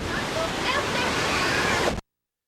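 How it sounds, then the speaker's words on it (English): Gusty wind in the aftermath of Hurricane Wilma rushes across the microphone as a dense, roaring broadband wash, steady and loud for two seconds before stopping abruptly. "the wind is still a little gusty"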